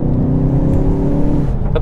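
A 2019 Ford Focus ST accelerates hard out of a bend, its engine a loud, steady, rising drone heard from inside the car with no talking.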